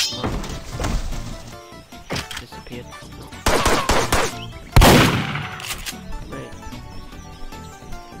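Pistol gunfire in a Roblox game cracks out in loud bursts, with a dense cluster of shots midway and one heavy blast, set against a busy, constant game soundtrack.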